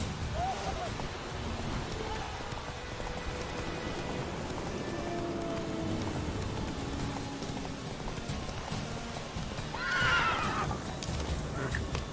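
A horse in a video game neighs and gallops, steady hoofbeats running throughout with a clear whinny near the end, over soft rain-like background noise.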